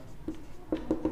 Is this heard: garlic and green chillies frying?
no